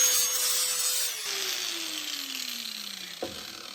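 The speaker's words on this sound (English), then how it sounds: "We will do some of it with the grinder" Power grinder working metal parts of a Noble 66J shotgun, a steady close high-pitched whine that slowly drops in pitch as the grinding continues, alone without talk.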